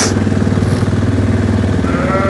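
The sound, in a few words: quad bike engine driving off on farm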